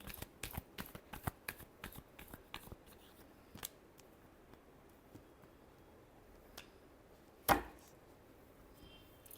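Tarot cards being shuffled in a quick run of crisp riffling clicks and snaps, densest at the start, then a thinner scattering of soft taps with one sharper slap midway, close and fairly quiet.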